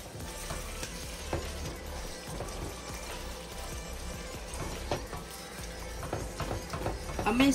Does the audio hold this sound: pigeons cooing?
no